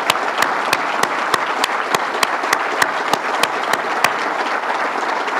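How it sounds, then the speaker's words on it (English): Sustained applause for a retiring staff member honored for 18 years of service at a governor's public event, steady dense clapping with a few sharper claps standing out, continuous and loud throughout. "Let's give Van Robinson a round of applause"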